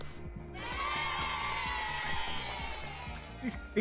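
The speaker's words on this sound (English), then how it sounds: "The cheering sounds so unenthused." A crowd cheers faintly and without much energy in the platform game Balan Wonderworld after a baseball minigame, set under bright chiming game music with a rhythmic beat.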